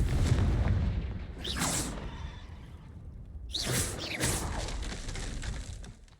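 Two bright, sizzling Confringo spell blasts in Hogwarts Legacy, each a fiery whoosh ending in a burst, separated by a couple of seconds over a low ambient rumble.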